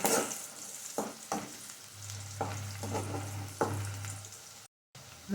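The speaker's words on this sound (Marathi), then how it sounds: "कांदा भाजत आलाय आपण टोमॅटो करून घेऊया कांदा टोमॅटो छान भाजलाय" Chopped onion and tomato fry in a pan, making a continuous soft sizzle broken by several spoon-stirring scrapes and knocks, under a low steady hum, briefly cutting out near the end.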